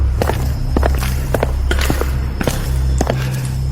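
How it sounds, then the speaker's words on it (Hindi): Shoes creak and thud in slow, uneven footsteps across a dark morgue room, close and distinct over a steady low hum. "तभी अचानक उसे अंधेरे में किसी के जूतों की चरमराहट सुनाई दी, जैसे कोई उसकी ओर बढ़ रहा हो"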